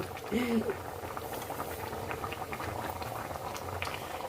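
Beef curry simmering and reducing in a pot, a steady low bubbling and popping boil that runs throughout, close by, with a brief burst of voice near the start.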